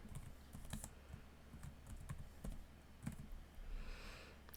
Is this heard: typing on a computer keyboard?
yes